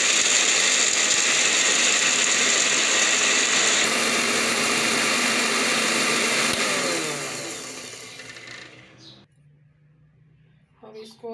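Mixer grinder running hard as it grinds ingredients for a homemade face cream, a loud steady mechanical whir for about seven seconds that then winds down and stops, with a few faint clicks afterwards.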